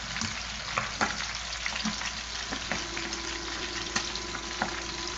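Galunggong fish fry in hot oil with a steady, close sizzle and crackle, broken by occasional louder pops and spatters, and no talking.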